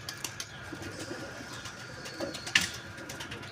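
Mixed-breed fancy pigeons coo softly amid faint rustling and wing flaps, with a brief sharp flutter partway through, fairly quiet and outdoors.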